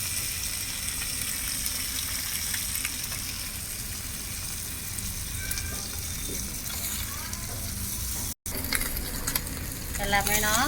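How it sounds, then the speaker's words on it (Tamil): Fish marinated for twelve hours fries in oil, a dense, steady close sizzle with occasional bubbling crackle and stirring, briefly cut out and then resuming stronger toward the end. "மீனெல்லாம் நல்லா ஃப்ரை ஆகும் பாருங்கள்"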